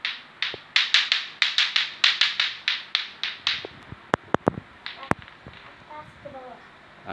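Lato-lato clacker toy knocked in a quick rhythmic series of sharp clacks following the Pramuka scout clap pattern, then scattered single louder clacks with faint talk in the background.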